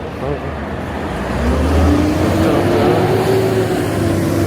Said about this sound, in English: the loudest thing on the streets right now really is those trucks